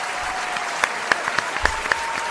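A studio audience claps for a guest being welcomed on a Valencian talk show. The applause is short and steady, with a few sharp, louder claps standing out above the wash.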